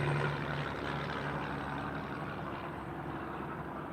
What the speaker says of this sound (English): Truck, he just trying to climb this hill stuff. Anyway, he just loud and proud, right?